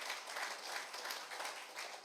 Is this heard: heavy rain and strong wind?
no